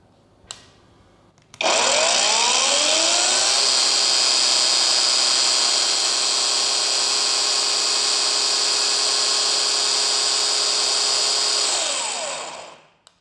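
A cordless power tool spins up on a DCA battery and runs at a steady high-pitched whine for about eleven seconds, loud and close with no talking, then winds down and stops.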